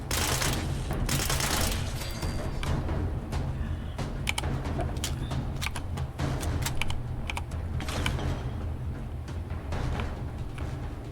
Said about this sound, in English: Who else is shooting at us?